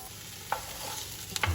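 Chopped vegetables sweat gently in a pan before lentils go in, a soft steady sizzle with a couple of brief clinks of a utensil against the pan near the end.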